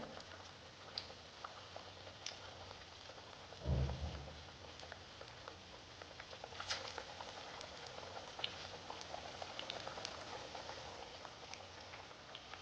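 Sprouted moth bean vadas deep-fry in hot oil, a faint continuous crackle and fine bubbling pattering on steadily with scattered ticks and a brief low thump near the start.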